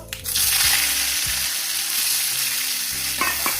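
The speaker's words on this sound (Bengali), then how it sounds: "কাঁকরোল ভাজার জন্য কড়াই বসিয়ে দিয়েছি, কড়াই তেল দিয়ে দিয়েছি, ফোড়নে দিয়ে দেবো কালো জিরা শুকনো লঙ্কা, দিয়ে দেবো কাঁকরোলগুলো" Spiny gourd (kakrol) fries in hot oil in a wok tempered with black cumin and dried red chillies, giving a loud, continuous sizzle with a few stirring scrapes near the start and end.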